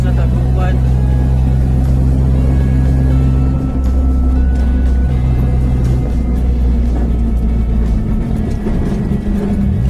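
Mini truck driving along a road near Dagupan, Pangasinan, its low engine rumble steady and loud throughout, with faint cabin voices talking underneath.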